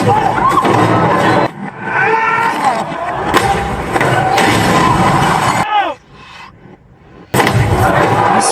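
Loud arena crowd roaring and cheering during a gladiator fight in the film Gladiator, with bursts of noise, clashing scrapes and a voice over the din, dropping briefly to near quiet before the roar returns.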